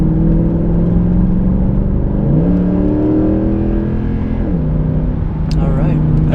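A Mercedes C63 AMG Black Series accelerates through the gears nearby, its engine note rising in pitch, dropping at each shift and climbing again, with people talking over the roar inside the car.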